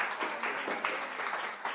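A studio audience at a quiz show claps in a short burst of steady, rhythmic applause, fairly close and dense, lasting under two seconds with no talk over it.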